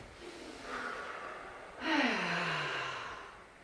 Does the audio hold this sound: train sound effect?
no